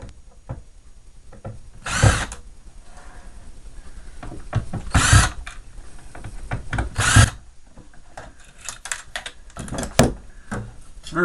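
Power driver unscrewing screws from a mini fridge being scrapped, with short bursts of whirring at roughly two-to-three-second intervals amid light clicks and tool handling, fairly close.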